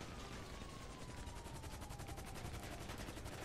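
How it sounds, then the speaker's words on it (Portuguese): Rapid bursts of gunfire in the video game GTA V rattle continuously, loud and dense, with a faint rising whine running underneath. "Tô tomando tiro aqui, ó."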